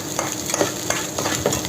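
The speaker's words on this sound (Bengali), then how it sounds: "ডিমটা একদম শুকনো ভাজা ভাজা হয়ে গেলে পরে" Eggs frying in a pan with onion while being stirred, loud close sizzling with repeated scraping strokes of a spatula at a steady rhythm.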